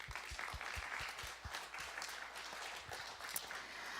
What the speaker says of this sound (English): So a round of applause to yourselves.